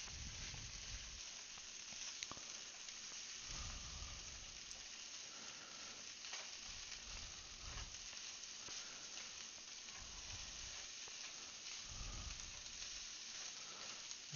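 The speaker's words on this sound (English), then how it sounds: "I can hear that sizzle." Fried rice sizzles and crackles steadily in a hot pan, a constant hiss with occasional low stirring scrapes, quiet and continuous.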